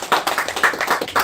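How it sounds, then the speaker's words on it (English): A quick, even run of about eight sharp hand claps, close and dry, with no voices over them. "And hand claps."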